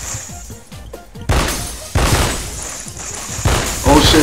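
Gunfire in Special Force 2 during a glass-heavy map skirmish, with loud close shots and bursts arriving in uneven clusters, mixed with crashing impacts, while players talk over it.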